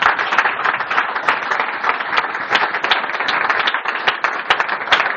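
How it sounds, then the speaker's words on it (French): A church congregation applauds loudly and steadily for the word of God. Dense, continuous clapping from many hands fills the whole stretch at close range. "Acclamons très fort pour la parole de Dieu."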